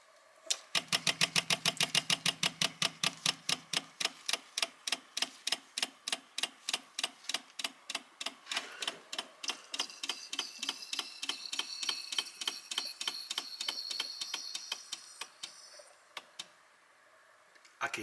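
Rapid, regular metallic ticking from an SU electric fuel pump feeding a Weber DGAS carburetor clicks steadily and close by, gradually slowing and softening toward the end.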